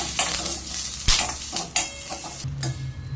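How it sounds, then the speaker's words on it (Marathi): Green chilies frying in a little oil in a pan, a continuous sizzle broken by a few sharp stirring clatters and scrapes of a utensil against the metal, close and fairly loud, with no talking. "आता मिरची भाजून घेऊया थोडंसं तेल टाक थोडंसं तेल टाकून घेऊया"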